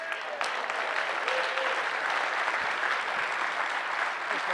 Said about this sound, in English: Give it up for Mike Villan.